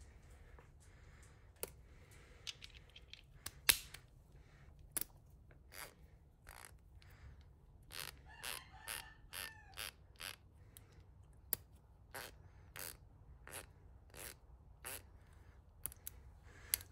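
A Nepros ratchet lubricated with Super Lube grease is compared with another ratchet, giving close, crisp clicks, first scattered, then a quick rattling series, then spaced single clicks, with no talk.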